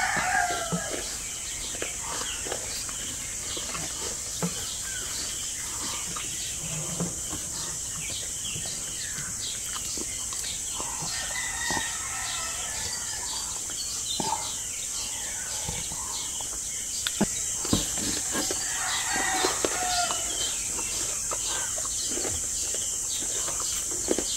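Chickens clucking in a busy outdoor yard, with a rooster crowing now and then amid steady background hiss and scattered bird calls.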